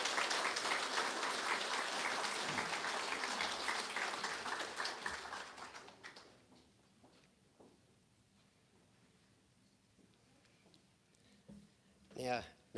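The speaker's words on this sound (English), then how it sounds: "I would like you all to applaud" An audience applauds at an Australia Day awards ceremony in East Gippsland Shire, a loud sustained round of clapping that tapers off after about six seconds, followed by quiet room sound and a voice near the end.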